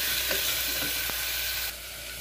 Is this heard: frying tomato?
yes